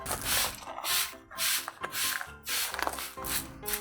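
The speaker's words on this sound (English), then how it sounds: "you wanna spray it a lot more than you think" Repeated bursts of spraying bleach from a trigger bottle onto shorts, about six pumps in an uneven rhythm, close up, with faint mechanical clicks between sprays.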